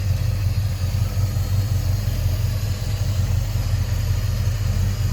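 A rebuilt 330 V8 in a 1964 Oldsmobile Cutlass convertible idles steadily and close by, a deep, even low rumble that carries without any talking.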